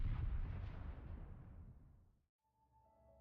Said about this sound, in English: It's far away, but the explosion sounds massive.